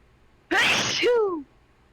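A single loud, close human sneeze with a sharp wind-up and voiced release, lasting about a second, surrounded by near silence.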